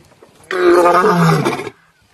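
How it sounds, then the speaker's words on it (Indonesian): A lion gives a single loud, rough roar lasting just over a second. It sounds close and stands alone against near silence. "Singa."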